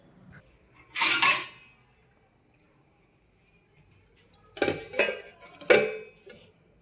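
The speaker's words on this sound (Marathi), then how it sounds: "या बॅटरवरती प्लेट जी आहे ना ती झाकून ठेवत आहे दहा ते पंधरा मिनिटासाठी" Metal plate set down over idli batter, giving a short clinking clatter, a long quiet gap, then a few more light metallic clinks and taps near the end, with no talk.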